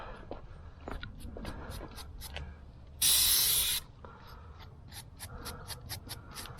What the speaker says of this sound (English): Take some brake parts cleaner. This stuff evaporates quick